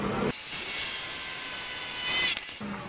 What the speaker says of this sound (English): I'm going to drill through, pop through the tile.